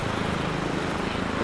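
A helicopter in the video game Arma 3 Altis Life gives a brief, steady, close whirring drone of rotor and engine, with no breaks.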